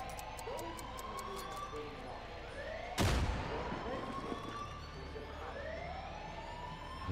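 An emergency siren in the Far Cry 5 video game wails in repeated rising and falling sweeps at moderate distance. A sudden loud impact cuts in midway, and the siren continues over a dense game soundscape.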